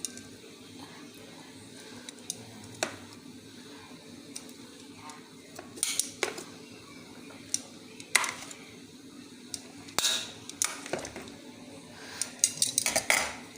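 Metal utensils scraping and clinking against a pot as mackerel pieces are stirred in boiling coconut milk, irregular taps and scrapes growing busier toward the end over a soft background.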